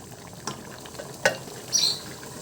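Beef caldereta sauce thickened with liver spread simmers in a pan, giving a soft bubbling sizzle with a few stirring scrapes and small pops, heard close and fairly quiet.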